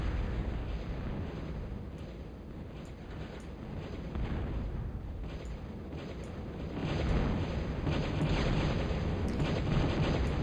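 Bombing explosions in a real-time strategy game match on the map John's Pond, heard as a continuous dense rumble of blasts and gunfire-like bursts that swells louder toward the end, with no talk.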